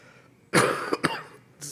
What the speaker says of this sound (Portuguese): Desculpa de tossir